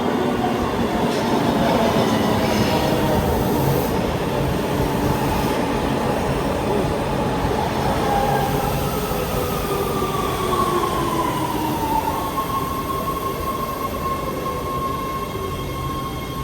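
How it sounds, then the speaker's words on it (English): LA Metro Red Line subway train running underground, a constant loud roar of wheels and motors with rhythmic rail clatter and a long rising then falling whine, heard from inside the car. "I am concerned to take this train today"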